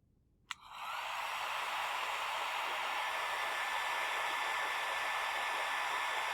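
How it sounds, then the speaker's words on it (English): A hair dryer clicks on and then blows a steady, close hiss of air at the blades of a small wind turbine. It runs alone without a break for several seconds. "Now when I bring the hairdryer in closer to make the blades turn faster"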